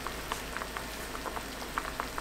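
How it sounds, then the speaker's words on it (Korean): A pot of sweet potatoes in sugar, white wine and water bubbles gently at a simmer, soft irregular pops and blips over a steady hiss, close and moderately loud. "보글보글 소리나기 시작하면 바로 약불로 줄이고 천천히 고구마를 익혀주세요"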